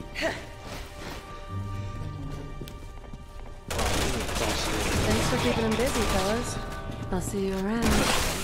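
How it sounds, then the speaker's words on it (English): Pistol gunshots in Resident Evil 6 crack sharply amid game noise that grows louder and busier, with voices talking over the shots. "Let me use pistol."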